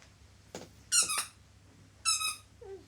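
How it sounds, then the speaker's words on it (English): A squeaky dog toy gives a few short, sharp squeaks in close succession, loud and near, with a brief quiet gap between bursts and no talking. "I want Squeaky Dog"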